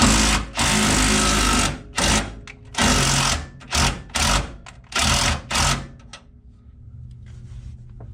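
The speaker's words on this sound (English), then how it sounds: "I don't use that little impact for automotive stuff very often" A small impact wrench fires in a run of loud, rapid hammering bursts with brief pauses between them, used during a transmission test fit on a vehicle, then falls quiet with faint shop noise.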